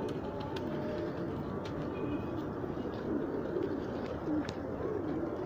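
Pigeons cooing softly at a loft, a low murmuring coo repeated over a steady dense background hum, with faint clicks and rustles scattered through.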